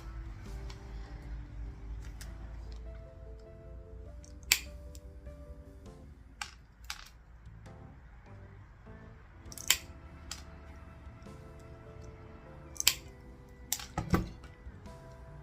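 White crystal tiles being cut in half in a quiet craft setting, with a handful of sharp isolated clicks and snips spread across the stretch over a low steady hum.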